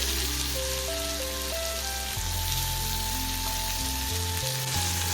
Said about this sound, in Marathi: त्यानंतर थोडी मोहरी घालून घेते चिरलेली मिरची त्यानंतर आपण बारीक चिरलेला कांदा घालून घेणार